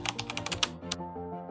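Rapid keystrokes on a Windows 11 computer keyboard, about eight quick, close, crisp clicks in under a second, then a single later tap over a faint steady background hum.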